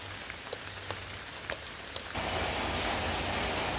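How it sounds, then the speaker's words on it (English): Steady rain patters for a couple of seconds with a few louder drips, then surges into a dense, heavy downpour roaring close by, heard from shelter in washrooms along a Central Ontario cycling route. "It's raining so hard that I've taken refuge in the washrooms"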